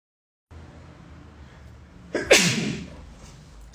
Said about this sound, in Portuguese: Espirrei e não consegui mutar, gente.